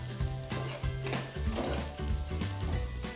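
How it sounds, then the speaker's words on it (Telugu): Chicken manchurian with ridge gourd and other vegetables sizzling steadily in a hot pan, a continuous close frying hiss with occasional stirring scrapes and no talk. "కొంచెం ఫ్రై చేయండి."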